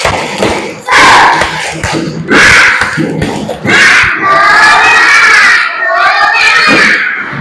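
Rhythmic group clapping from a classroom of young children doing a spirit clap chant, bursts of claps in a pattern with kids' voices chanting and shouting along, close and loud.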